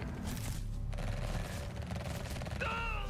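Gunfire in the video game Last Epoch: a dense rattle of rapid shots with mechanical clatter, steady and moderately loud, with a few tonal game effects near the end and no clear speech.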